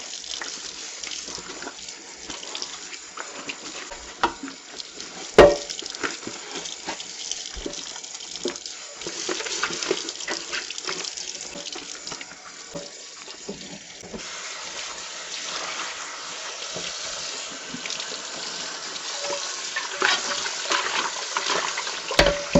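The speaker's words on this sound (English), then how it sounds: "And just use a dish soap and just clean and wash it off." Tap water runs steadily into a sink while a burnt-bottomed pot is washed with dish soap, a continuous close splashing rush with small clinks and shifts in the flow.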